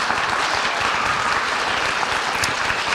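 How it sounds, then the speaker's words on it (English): An audience at a high school spring band and choir concert applauds, a continuous, even wash of many hands clapping at moderate loudness with no pauses. "some people are applauding."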